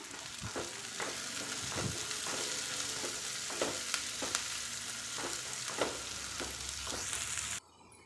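Curry leaves and onion fry in a pan for drumstick gravy with a loud, steady sizzle. A spoon scrapes and clicks against the pan at irregular intervals, and the sound cuts off abruptly near the end.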